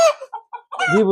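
A chicken held in someone's hands gives a few short, nervous clucks and then a louder, drawn-out squawk, close and alone.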